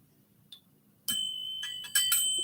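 A hand bell rings in a messy, uneven way during a quiz: one faint tap, then a burst of bright, ringing strikes with a sustained metallic tone, heard alone.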